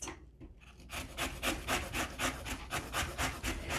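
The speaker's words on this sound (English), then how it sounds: "And it's perfect for lemon zest." A hand zester grates zest from fresh garden lemons in quick, steady strokes, each a soft raspy scrape in an even back-and-forth rhythm, close and fairly quiet with no talking.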